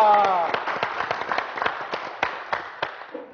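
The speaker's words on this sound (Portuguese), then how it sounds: "vamos aplaudir o nosso líder espiritual" Audience applause for a pastor at a formal afternoon gathering, a steady patter of claps with sharp individual hits spread across the room, fading slightly toward the end.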